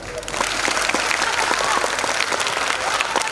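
An audience at an abacus academy national competition award function breaks into loud, full applause, many hands clapping in a thick continuous roar that swells quickly and holds strong throughout.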